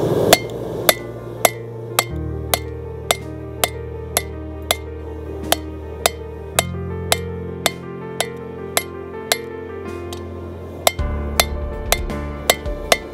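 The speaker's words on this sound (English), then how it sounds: "I'm going to do a set down by hammering on the corner of the anvil" A blacksmith strikes steel on the corner of an anvil to forge a leaf, sending out a steady series of sharp ringing hammer blows at a regular rhythm, close and loud, with a humming tone beneath.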